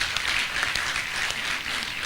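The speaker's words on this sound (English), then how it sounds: "Please, a round of applause to yourselves." Graduates applauding themselves at a graduation ceremony, a steady, even wash of many hands clapping at moderate loudness throughout.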